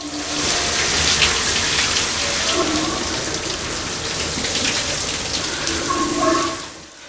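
Shower water running steadily in a bathroom, a continuous close hiss of spray and splashing that fades slightly at the end, with faint background sounds but no clear talk.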